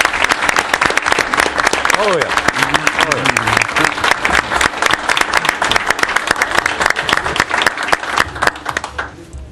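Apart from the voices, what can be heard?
audience applause at town council meeting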